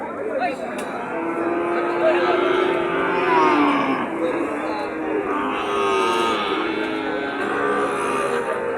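Long, low moos from cattle stretch over a busy crowd murmur at a cattle market in Joypurhat, with people talking nearby throughout.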